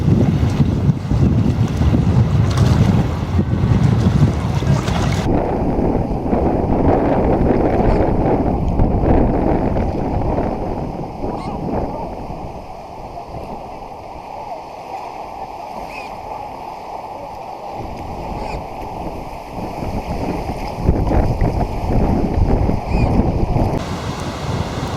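Strong wind blows across a lake, a loud, continuous roaring buffet on the microphone with gusts swelling and easing, water sloshing underneath and no pause throughout.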